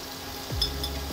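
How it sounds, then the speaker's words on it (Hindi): Potatoes fry in a pan with a steady, close sizzle and a couple of brief stirring scrapes, no voices. "अब थोड़े से आलू फ्राई कर लेंगे।"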